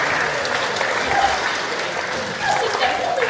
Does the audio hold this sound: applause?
yes